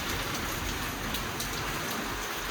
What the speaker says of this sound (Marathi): पाऊस बघू शकता तुम्ही किती जोरात चालू आहे.